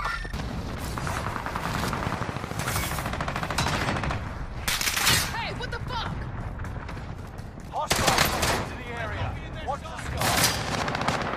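Warzone firefight with rapid bursts of automatic gunfire crackling in close, repeated volleys and a few heavier booming shots, while a player talks and reacts over the shooting.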